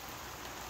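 Rain falls outdoors as a faint, even hiss of drops with no voices and no other sounds.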